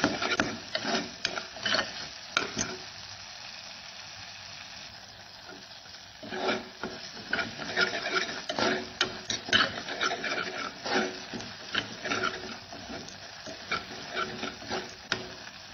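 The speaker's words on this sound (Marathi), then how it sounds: "आता छान मसाले परतून घ्यायचे" Spices being stirred and sautéed in oil in a pan for Maharashtrian misal, giving a steady sizzle with repeated scraping strokes of the spoon, close and moderate in volume.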